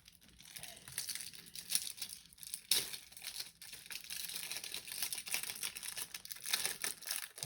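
Packaging on a Pokémon TCG advent calendar box is opened with soft, close crinkling and small tearing sounds in irregular bursts. The sounds are quiet overall, with no clear speech.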